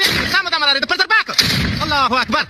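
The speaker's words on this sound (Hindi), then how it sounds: "जहां से फायरिंग कर रहा है और आसमान में गोलियां चला रहा है।" Sharp gunshots fired into the sky crack out in a quick irregular burst while someone shouts loudly over them.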